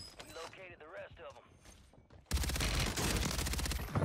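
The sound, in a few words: shotgun shot in the video game Warzone 3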